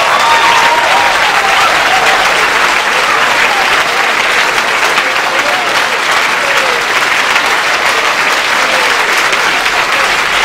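Church congregation on its feet clapping and applauding in celebration at a campaign service, a loud, dense, continuous wave of applause lasting around ten seconds.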